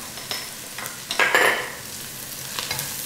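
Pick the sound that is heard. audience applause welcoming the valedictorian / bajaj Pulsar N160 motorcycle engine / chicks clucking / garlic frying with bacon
garlic frying with bacon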